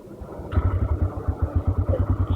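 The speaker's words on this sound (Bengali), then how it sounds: "এই দেখছেন বাইকটা কিন্তু স্টার্ট হয়ে গেছে" A TVS Raider 125 cc motorcycle engine catches after a brief start and settles into a steady, close, rhythmic idle thump.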